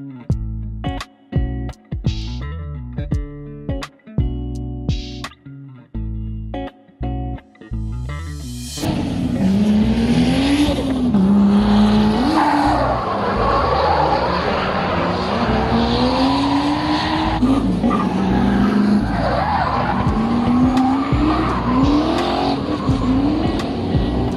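Race cars rev and scream past at a drift event in Słomczyn, where a V12 turbo car is entered, with loud sustained engine roar, rising and falling revs and tire squeal following a burst of loud music.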